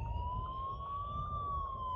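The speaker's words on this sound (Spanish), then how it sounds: "como tenemos una ambulancia detrás, vamos a intentar salir del medio aquí mismo" An ambulance siren sounds behind a car on a city street during a driving test route, a steady high wailing tone held under low engine and road rumble, fairly faint and continuous.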